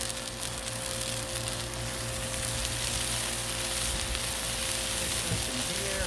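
Ballpark jumbo beef franks sizzle steadily on a hot Blackstone griddle, a close, dense hiss and crackle running unbroken throughout.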